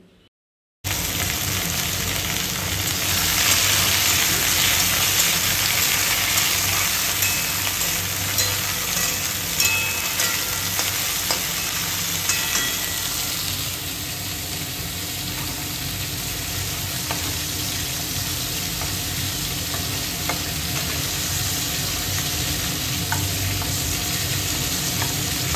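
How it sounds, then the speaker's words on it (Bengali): Hilsa fish frying in hot oil in a home kitchen gives a steady, close, loud sizzle with crackling spits, easing slightly quieter partway through and continuing alone without voices. "এদিকে মাছটা প্রায় ভাজা হয়ে এসেছে"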